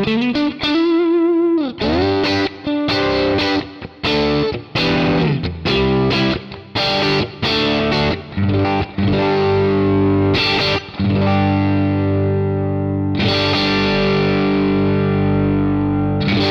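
Electric guitar played through a 1981 Inventions LVL low-gain overdrive pedal, with lightly distorted chords and single-note riffs that stop and start in short phrases, loud and close with no talking.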